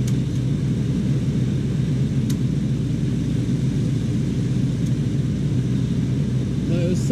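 Continuous low mechanical rumble from a Chevy C10's engine bay as the R134a-retrofitted AC compressor runs with its clutch jumped, a steady hum with a few faint clicks and a brief voice at the end.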